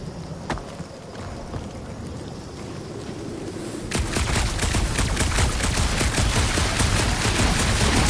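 Gunfire in a console action game, a lone shot early on followed by a sustained rapid barrage of loud, dense shots that runs continuously through the second half over a windy background.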